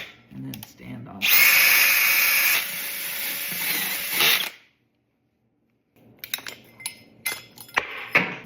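Power drill boring through a wooden board set on a backing surface, a loud, high whine lasting about three seconds that drops off into silence, followed by clinks and handling clatter.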